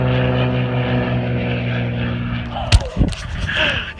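A Cessna TTX airplane takes off, its propeller engine droning loud and close with a steady pitch before a few sharp bumps and a brief rushing pass near the end.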